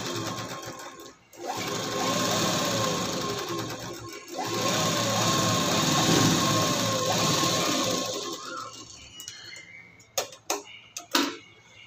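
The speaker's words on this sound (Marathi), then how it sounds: "सगळ्यात आधी याला एक टीप मारून घ्यायची आहे." A sewing machine runs fast and steady, stitching a blouse button strip with a half-inch seam. Two short pauses break the run, and it ends in a few separate clicks and taps.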